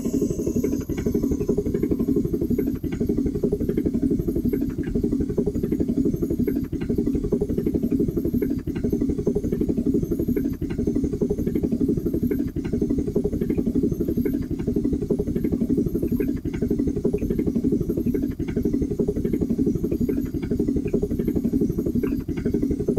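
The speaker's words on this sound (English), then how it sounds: "rotor sounds, like engine sounds for the helicopter that tie into the helicopter's actual throttle, which would look like this" Simulated helicopter rotor and engine sound in a Unity game, tied to the throttle: a steady, loud droning hum with a rapid rhythmic chop runs continuously without a break.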